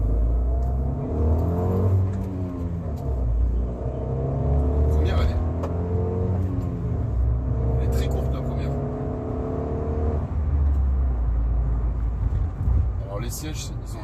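A Fiat 500 S with a small 0.9 TwinAir two-cylinder engine pulls through the gears while driving, its hum rising and falling under someone talking throughout.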